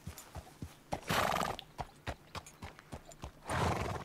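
Horse hooves in Red Dead Redemption 2, a run of sharp, fairly close clip-clops at an uneven walking pace, broken by two loud whinnies, one early and one near the end.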